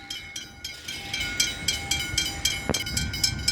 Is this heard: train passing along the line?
yes